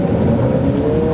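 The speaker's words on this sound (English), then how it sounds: "foot to the ground. Let's see if we break traction here." 2020 Jeep Cherokee with four-wheel drive and 290 horsepower accelerating hard from a stoplight through a right turn, a loud, steady engine roar heard up close and continuous for the brief moment, with no talking.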